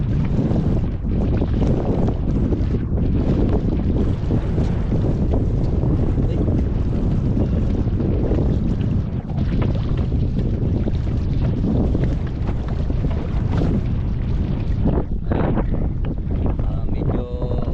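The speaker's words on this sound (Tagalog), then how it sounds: "lumakas na naman ang alon" A small fishing boat in rough water on Taal, with strong waves slapping the hull and heavy wind roaring across the microphone, loud and continuous throughout.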